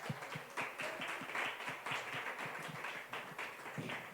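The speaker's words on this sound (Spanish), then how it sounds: "Un aplauso, por favor." An audience claps steadily and evenly, faint and somewhat distant, as two guests are invited up at a stage event.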